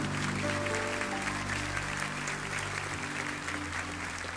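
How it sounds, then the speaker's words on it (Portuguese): Dense, steady applause from a church congregation fills the whole stretch at an even level, with a sustained musical tone lingering underneath. "A salva de palmas para o Paulinho."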